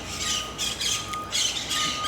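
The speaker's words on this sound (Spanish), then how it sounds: "Vean, oigan el ruido tan lindo de los pericazos que por allá andan." Parakeets squawking in Chiapa de Corzo, Chiapas, Mexico, with a string of harsh, rapid, repeated calls from somewhere a little off, moderately loud over faint outdoor background.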